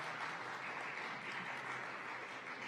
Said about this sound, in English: Can we please give the lady a round of applause?